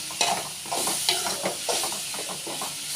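Steady sizzling of curry leaves frying in hot oil, with a few stirring clinks and crackles over a constant hiss.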